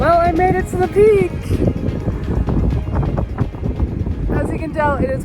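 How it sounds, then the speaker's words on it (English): Strong wind gusts buffet the microphone on the summit of Mount Thomas, a constant low rumbling roar underneath someone speaking close by. "As you can tell, it is quite windy."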